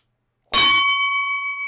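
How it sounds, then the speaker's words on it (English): A single bell struck in a Black Powder 2 Napoleonic battle game, one sharp clang that leaves a clear ringing tone sustaining and slowly fading. "The 20 bell has been rung, if it wasn't heard"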